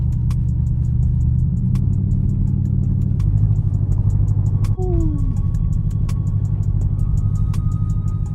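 A 2021 Dodge Durango drives through a snowstorm, its engine and road noise a steady loud low rumble inside the cabin, with regular faint clicks from an indicator or wipers and a brief higher tone midway.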